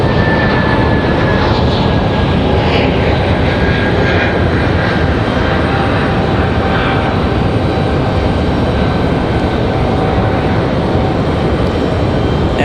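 A Frontier Airlines airliner in Ted the Turtle livery takes off at Raleigh-Durham International Airport, its engines producing a loud, steady broadband roar with a faint high whine for the whole stretch.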